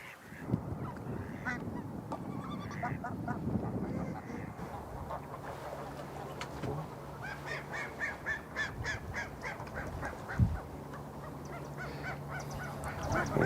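Wild geese honk repeatedly near a hunting hut, a series of raucous calls at moderate distance over a low background rumble, with a brief thump partway through.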